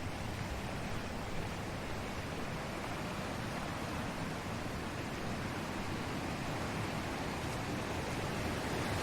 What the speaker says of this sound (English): we can start to hear the noise of the river, the sound of the river rippling away down in the bottom of the